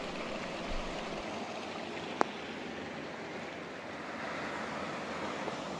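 A waterfall rushes in the distance along a forest trail, a steady broadband roar of falling water with a single sharp click midway, with no talk.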